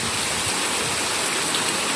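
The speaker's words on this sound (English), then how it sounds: "It is raining. Big time." Heavy rain pours down in a dense, steady hiss that fills the whole clip, close and loud with no letup.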